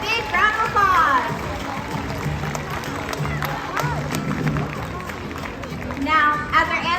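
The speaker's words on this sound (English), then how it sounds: "Let's give you guys a big round of applause." A crowd at a SeaWorld San Diego dolphin show applauds and cheers in a steady roar of clapping, with children's high excited voices rising above it at the start and end.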